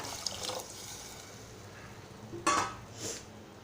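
Quiet kitchen clinks, then a short splash of water poured into a pot of dal for Konkanastha-style sweet varan, followed by a faint trickle.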